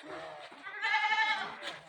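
A goat bleats nearby at a neighbourhood gathering in Azad Kashmir, one wavering, nasal bleat lasting under a second, preceded by a shorter cry, with faint background murmur.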